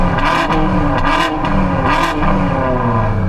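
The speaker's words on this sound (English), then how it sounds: "can you guys now rev up both your cars together" Two BMW sports cars, an M4 and an M5, rev their engines together, a loud sustained roar with rising and falling throttle blips over a steady low rumble, close to the microphone.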